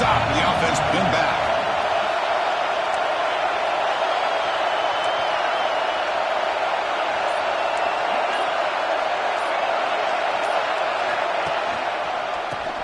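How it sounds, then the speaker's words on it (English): A packed football stadium crowd roars continuously for the defense during a Texas vs Georgia game, a dense sustained wall of cheering and whooping with a few sharp peaks early on, with no clear voice standing out. "this crowd coming to life here, trying to help the defense get a stop."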